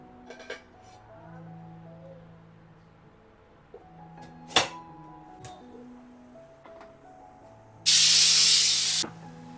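A pressure cooker lets off a loud, steady blast of hissing steam lasting about a second and a half. Before it come scattered kitchen clinks and ticks in a quiet room.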